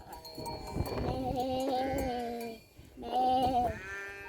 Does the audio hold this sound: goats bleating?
yes